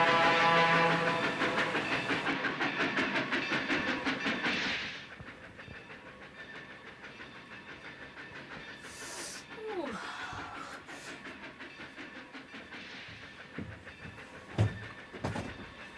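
A passenger train rolls along the rails on a multi-day journey, its clattering rumble loud and steady for about five seconds, then fading to a quieter background with scattered clanks and brief squeals.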